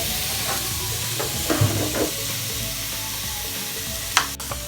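Sweet potato sizzles as it goes into a hot frying pan with vegetables, a steady loud frying hiss with a few scraping stirs and clinks close by, no talking.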